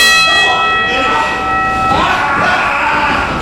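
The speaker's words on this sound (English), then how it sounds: "I'll tell the bell guy to keep ringing it." A wrestling match's ring bell clangs repeatedly to end the bout at a professional wrestling showcase, bright metallic strikes ringing over crowd noise and a commentator's voice.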